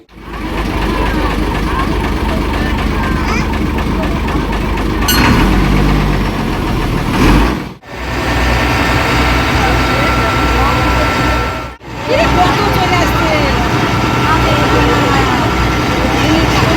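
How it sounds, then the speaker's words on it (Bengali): A crowded passenger ferry launch on the way to the Gangasagar Mela, its engine running in a steady, loud rumbling idle throughout, briefly cut out twice, with people talking over it. "লঞ্চ স্টার্ট হবে এবার"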